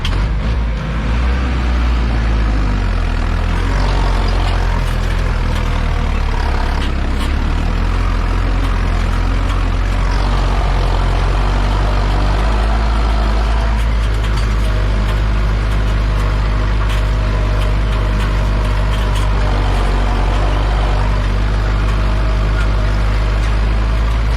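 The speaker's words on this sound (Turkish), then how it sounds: "Motoru bile zorluyor yani bak." A Massey Ferguson 3105 tractor strains while plowing a fallow chickpea field. Its engine makes a loud, continuous low rumble and drone that stays close and heavy the whole time, with no talk.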